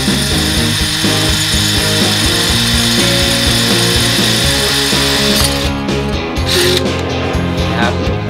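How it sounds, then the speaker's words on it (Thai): A Stanley cordless drill in plain drill mode bores through roughly 4 mm steel box section, giving a loud, steady mechanical whir with harmonic tones that shifts and eases toward the end, close up with no talk. "เดี๋ยวจะทดสอบเจาะเหล็กให้ดูนะครับก็ออกจากโหมดกระแทกนะครับเป็นโหมดสว่านธรรมดานะ"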